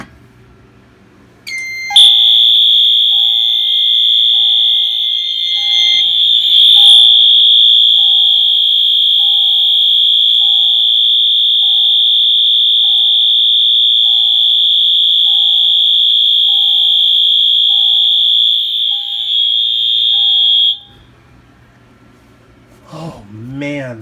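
A fire alarm audible strobe from Firelight, Notifier or Wheelock blares during an alarm test, a loud continuous piercing tone with a rapid rhythmic pulse running for about twenty seconds, then cutting off before a brief voice.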